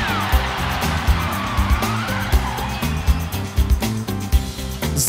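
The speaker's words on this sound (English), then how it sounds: "as the young monster trucks zigzag their way home" Cartoon monster trucks racing and zigzagging toward home, their engines revving loudly over upbeat music, with repeated thumping beats and tire skids in the mix.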